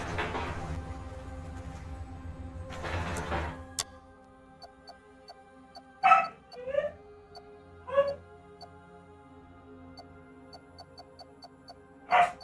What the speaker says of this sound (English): Apparently my dog is excited about something.